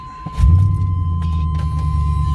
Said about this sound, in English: This old truck, it's been around a while.